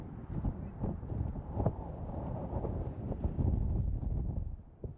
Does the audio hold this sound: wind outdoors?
yes